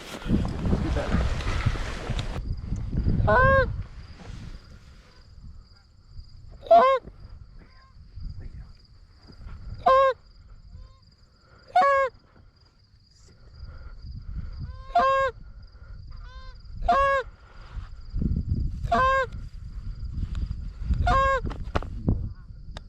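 Geese honk repeatedly overhead in flight during an early-season hunt in North Dakota, in a series of spaced calls, with gusts of wind noise rumbling at the start and end.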